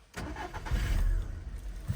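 A 2012 Skoda Octavia engine turns over with a brief starter crank and catches, settling into a steady mid-pitched run close by, heard alone without talk.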